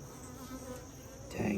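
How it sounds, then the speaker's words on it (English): Honey bees buzz in an open hive being inspected, a dense, close, continuous drone with individual insects passing near the microphone. "Lots of bees moving along here."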